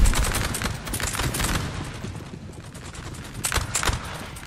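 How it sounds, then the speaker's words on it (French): Dense musket volleys in a Napoleonic-era Total War battle, crackling continuously in overlapping bursts with heavier clusters of shots rising near the end. "La fusillade est intense"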